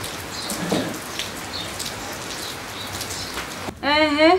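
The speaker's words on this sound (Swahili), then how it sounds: "Vipi na hii mvua?" Steady rain patters and hisses throughout, with a brief high tonal call rising near the end.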